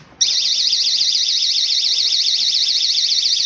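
A GE personal security window and door alarm blasts a piercing, warbling electronic siren that starts abruptly and holds steady and very loud at close range, with no voices over it.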